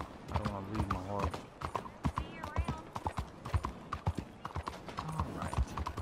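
Steady clip-clop of horse hooves walking at an even pace in the video game Red Dead Redemption 2, with someone talking over them and a brief whinny early on.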